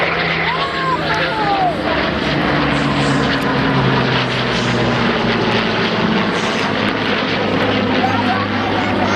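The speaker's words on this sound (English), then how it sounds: "Here they are, the Typhoon and the Spitfire." A Typhoon jet and a Spitfire fly together at the 2015 Cosford air show, a loud continuous engine drone with a propeller hum that rises and falls, while a commentator talks over it on the public address.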